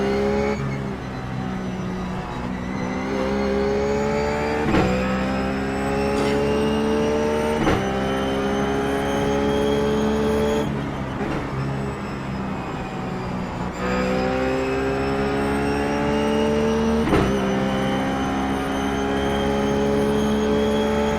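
Ruf GT3 race car at Spa in iRacing, its engine revving hard and climbing in pitch through repeated gear shifts, with upshifts every few seconds and a steady loud drone throughout.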